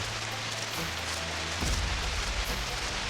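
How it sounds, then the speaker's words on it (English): Rain beginning to fall on the forest trees along a Smoky Mountains trail, a steady broadband patter and hiss with a low rumble rising partway through, moderately loud and continuous, with no talking. "It's starting to rain."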